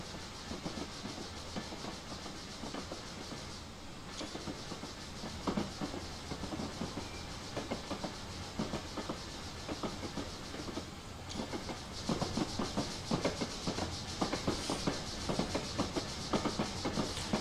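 A Great Western 14XX steam locomotive in Train Simulator 2016 on a 1950s Riviera line, running with a steady rhythmic chuffing and rail clatter, moderately loud and continuous with no voices.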